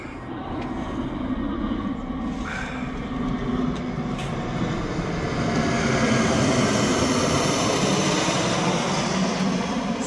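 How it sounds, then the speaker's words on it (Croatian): An airplane's engine drone rises steadily and gets louder, a broad rumbling roar that approaches over about ten seconds at an outdoor flea market in Klagenfurt. "Evo nam aviona sljedeće,"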